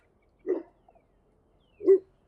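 Two separate barks from dogs nearby, spaced more than a second apart in an otherwise quiet room.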